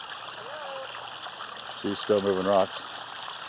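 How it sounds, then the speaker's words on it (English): Steady water flow from a backyard waterfall built among rocks in a pine-wooded yard, a constant wash heard throughout, with a man and someone briefly talking over it. "This is the waterfall. Look at the waterfall here."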